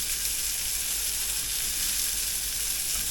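Flathead fillets frying in a pan, a loud, steady close sizzle with a constant bright hiss and no pauses.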